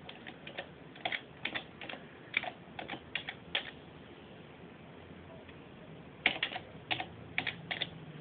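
Someone types on a computer keyboard close by, in irregular bursts of quick keystrokes with short pauses between them and a longer gap in the middle. The sound is quiet and there is no talking.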